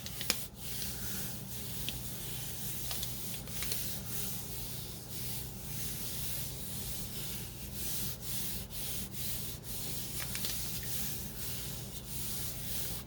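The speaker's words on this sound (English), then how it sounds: "I know I'm rubbing this a long time, which doesn't make for an interesting video, but this is the reality." Steady, continuous rubbing and scrubbing of paint off a gel printing plate, a close, even friction sound with rhythmic strokes that runs unbroken for the whole stretch, no talking.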